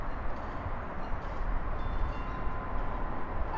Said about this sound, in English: And here comes our train.